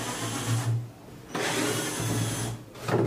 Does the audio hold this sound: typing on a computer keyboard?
no